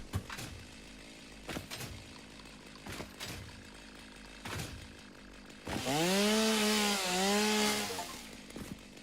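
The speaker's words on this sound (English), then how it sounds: "chainsaw." Chainsaw equipment effect in the video game Satisfactory: several sharp cutting bursts, then a loud sustained revving whine that rises and dips for a few seconds before cutting off.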